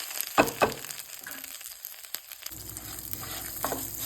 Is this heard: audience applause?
no